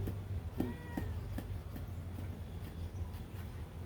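A cat lets out a couple of short, quiet meows amid a steady low hum and occasional clicks and taps in the background.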